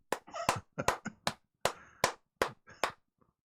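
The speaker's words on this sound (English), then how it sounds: "We'll give you a few claps." A handful of sharp hand claps ring out one at a time in an irregular sequence, about nine crisp smacks spaced across a few seconds, close and fairly quiet with nothing else around them.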